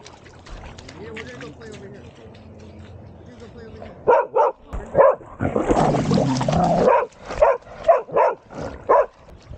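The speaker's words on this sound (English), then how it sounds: "barking and running all over the place." A dog barks repeatedly in sharp bursts, close and loud, after a quieter stretch of low rumbling background; some yips mixed in.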